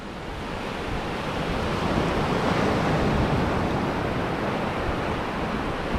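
Wind and breaking surf at New Smyrna Beach during surf fishing, a loud continuous roar of waves with gusty wind buffeting the microphone, swelling slightly midway and holding steady, no voices.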